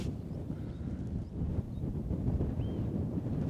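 Steady low rumble of wind buffeting outdoors at the foot of Villarrica volcano, Chile, constant and fairly faint, with no voices.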